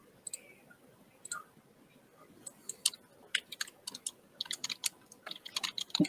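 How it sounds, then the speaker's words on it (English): Keyboard typing on a computer, a scattered run of light clicks that grows busier and more continuous toward the end, fairly faint over a quiet background with no talk. "He is typing, and now I'm scared."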